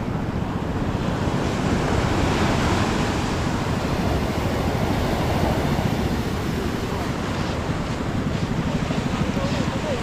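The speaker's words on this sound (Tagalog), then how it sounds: "Ang laki ng alon! May alon!" Loud, continuous rush of ocean surf with wind buffeting the microphone, waves breaking close by and filling the whole clip.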